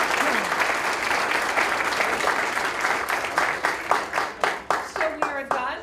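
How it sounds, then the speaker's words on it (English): A courtroom audience at a Law Day event gives a round of applause, dense clapping that thins out toward the end into a few distinct, slower individual claps. "So please give them one more round of applause."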